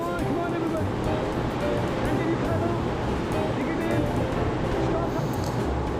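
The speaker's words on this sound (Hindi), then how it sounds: "गंगा की लहरों को चीरते हुए हम आगे बढ़े जा रहे थे।" On the Ganges river near Rishikesh, a boat pushes through waves with a continuous churning rush of water and wind, close and fairly loud throughout.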